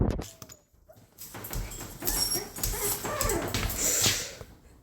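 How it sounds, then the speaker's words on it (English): Dogs whimper softly at first, then break into a run of sharp barks and high yips that grow louder and continue to the end, fairly close by. "if you guys hear any barking, that's just my dogs"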